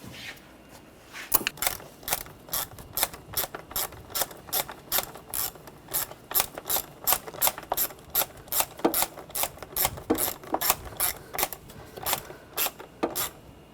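Hand ratchet tightening a bolt in the engine bay of a 2009-2013 BMW 328i xDrive 3.0L inline-six, close clicking pawl sounds repeating in steady back-and-forth strokes, no talk.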